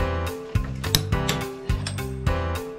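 A torque wrench clicks in short, sharp bursts while nuts are tightened on a Honda CBR1000RR engine's crankcase, bearings and bearing holder. The metallic ratcheting clicks are spaced irregularly over a steady tonal background hum.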